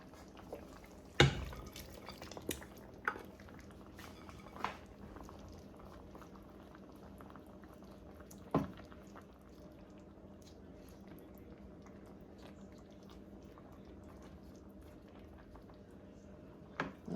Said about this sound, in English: So now we're gonna start going in with our shrimp.